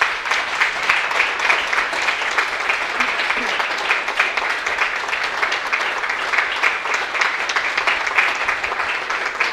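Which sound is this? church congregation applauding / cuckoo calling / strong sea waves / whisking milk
church congregation applauding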